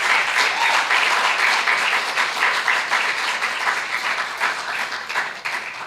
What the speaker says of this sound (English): deserves a really big round of applause